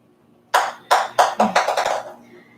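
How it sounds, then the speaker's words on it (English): A ball bouncing as a cat plays with it, a run of about seven hard taps that speed up and fade, close and without talking. "That is the sound of a ball that my cat's playing with."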